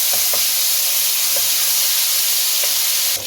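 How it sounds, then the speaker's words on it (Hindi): Garlic paste sizzles steadily in hot oil in a wok, a continuous close hiss with a few faint stirring clicks and no talking. "अब इसको फ्राई कर लें।"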